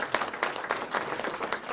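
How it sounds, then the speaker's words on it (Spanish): Audience applause at a medical conference session, brisk close clapping that continues steadily through the short clip. "el doctor Juvenal López Rocha, dándole un fuerte aplauso."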